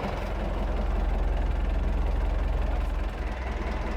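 Diesel engine of an Ursus 1014 tractor with front-wheel drive engaged, ploughing fallow land with Agro Masz ploughs; a steady, loud, low throbbing drone with a pulsing rhythm, running continuously and close by without speech.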